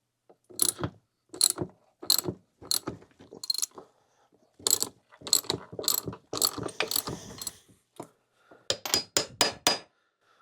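Crankshaft puller tool being tightened to press a Kawasaki KX125 crankshaft through its bearing, a close series of sharp, separate ratcheting clicks in uneven bursts with short pauses between turns.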